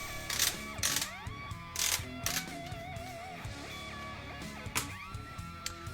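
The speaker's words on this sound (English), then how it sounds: "to break this thing down, of course you just screw off this cap" Metal magazine cap being unscrewed from an H&R Excell Auto 12-gauge semi-automatic shotgun, giving close, quiet ratcheting clicks and scraping threads in irregular bursts, with no talking.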